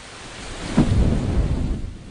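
Heavy rain and a rumble of thunder in the Himalayan state around Kedarnath, a low roar that swells near the start and keeps rolling steadily throughout.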